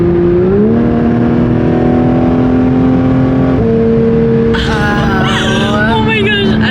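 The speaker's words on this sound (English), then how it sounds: "This car, I'm already in love with it, and like the shift sounds so crazy" A supercar driven near Sedona accelerates hard, its loud engine note climbing steadily and then jumping to a new pitch at an audible gear shift, with more engine and wind noise rising near the end.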